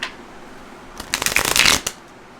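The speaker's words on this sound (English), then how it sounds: "I'm going to shuffle 3 times" A deck of tarot cards is riffled in a quick burst lasting under a second, a crisp close fluttering against a quiet room.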